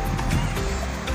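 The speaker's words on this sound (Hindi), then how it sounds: "देखो यहाँ पे पानी का ये झरना है," A water fountain splashes at the Mutrah corniche park in Muscat, a close, steady rush of falling water that runs without a break.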